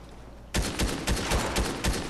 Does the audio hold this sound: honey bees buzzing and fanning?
no